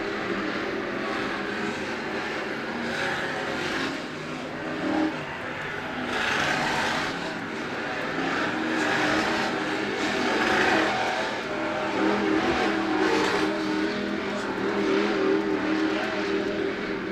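Sportsman-class race cars roaring around an oval track at Freedom Motorsports Park during a feature race, engines droning steadily and swelling as the pack passes, loud and continuous with crowd-level ambience and no talk.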